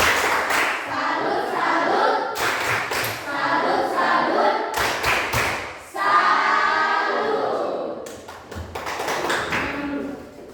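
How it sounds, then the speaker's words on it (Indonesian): A classroom of students claps for a group after their presentation, a dense, loud run of overlapping hand claps and taps that swells in several bursts, with voices mixed in. "Tepuk tangan, tepuk salut untuk kelompok 1 dulu"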